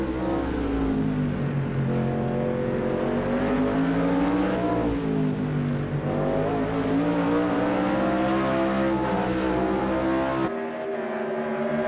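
Race car engine heard from an onboard camera in a racing video game during a GT1 championship round at Imola: a steady, loud, buzzing drone whose pitch climbs and falls with the revs, then cuts off abruptly near the end.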